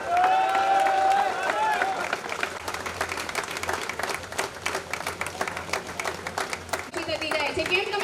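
Audience applause fills a Patidar community general meeting in Ukheda: dense, sustained clapping from a crowd in a hall, loud and close, with a voice speaking over the start before the clapping swells.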